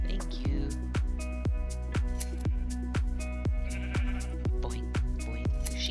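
Sheep bleat repeatedly in a farming survival video game, a steady rhythm of short bleats roughly every second over game music and ambience.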